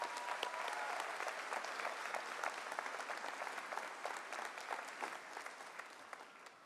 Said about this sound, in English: Please honor our trustees with a round of applause